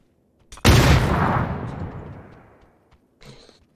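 A single grenade goes off in PUBG with a sudden loud boom that rolls and fades over about two seconds, followed by a short quieter burst.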